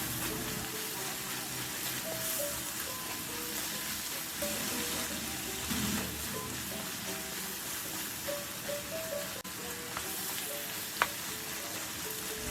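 Water goes into a hot pot of chicken liver and vegetables, giving a steady sizzling hiss with faint stirring clinks close by and one sharp knock near the end.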